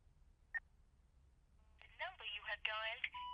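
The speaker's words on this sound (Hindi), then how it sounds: "उसने जिस नंबर से कॉल किया था उस पे कॉल कीजिए" A phone call being dialed in a Hindi-dubbed action film, with a brief beep, then a run of dial tones and electronic beeps over a quiet background, with voices mixed in.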